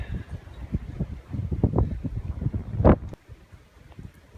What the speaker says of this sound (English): So as you can see, it's quite windy